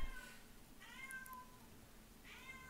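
A cat meows in a video game, with three quiet, high mews spread out over a low background hum and no talking.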